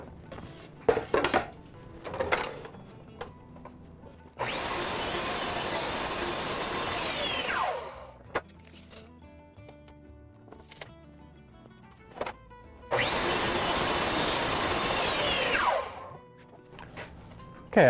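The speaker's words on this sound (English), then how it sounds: "I'm going to go ahead and cut my cherry piece the same manner," Two long loud bursts of a power saw cutting a cherry wood stool tread, each lasting several seconds, with quieter clattering and handling noises between them and no speech.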